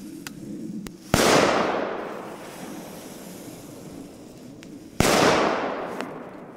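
Fireworks set off outdoors at a Czech market in dry snow: two sharp loud bangs a few seconds apart, each followed by a long crackling, hissing decay over steady wind noise.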